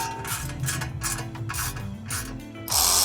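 A hand ratchet tightens bolts on a metal skid plate for a Triumph Scrambler 400 X motorcycle, clicking in several quick, close bursts of pawl clicks before a harsher scrape at the end.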